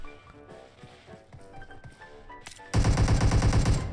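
Rapid automatic gunfire in PUBG Mobile bursts in suddenly and loud after a quieter stretch of soft taps and game sounds, forming a dense, continuous rattle of shots close by.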